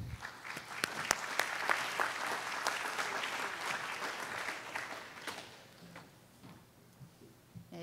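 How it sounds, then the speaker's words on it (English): An audience claps for a speaker at an agricultural sustainability talk, a sustained round with some sharp, close individual claps standing out, fading toward the end. "Let's a round of applause for Renata."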